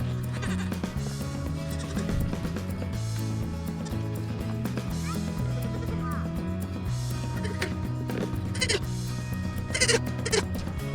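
A young Nigerian Dwarf goat bleats repeatedly, loud and nearby, with insistent wavering cries over steady background noise and a few sharp clatters.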